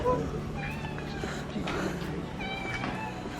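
A cat meows several times, drawn-out wavering cries at close range, with some background noise and a voice in the mix.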